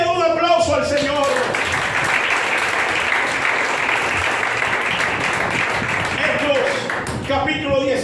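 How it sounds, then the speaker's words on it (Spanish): A church congregation bursts into loud, sustained applause for several seconds, with a preacher speaking just before and after. "Alguien le da un aplauso al Señor"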